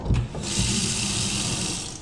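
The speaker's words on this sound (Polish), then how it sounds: "Patrz, woda działa." Water gushes from a tap in an abandoned historic factory assembly hall in a steady, hissing stream after a brief knock, close and continuous.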